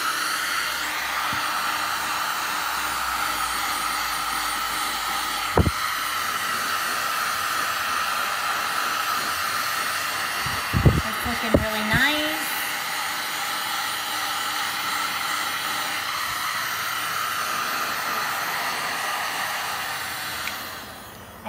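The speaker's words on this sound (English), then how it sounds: "You want to move the gun back and forth to distribute the heat" Heat gun blowing hot air onto shrink tubing, a steady loud hiss of rushing air lasting throughout with a few small clicks and knocks, fading at the end.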